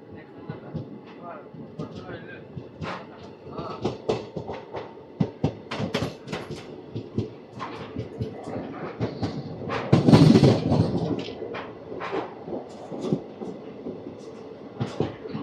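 Machilipatnam Express, the 17220 Visakhapatnam–Machilipatnam service, pulling into Mandavalli station: a steady rumble of rail wheels with rhythmic clicks, a louder swell of noise midway, and voices talking throughout.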